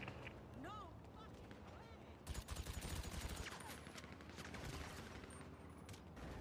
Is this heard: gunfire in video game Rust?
yes